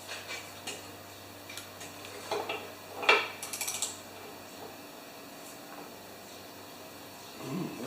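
A wrench tightens the blade bolt on an MTD lawn mower to torque, giving a few faint mechanical clicks and a brief cluster of ratcheting ticks near the middle, close by, in a quiet room.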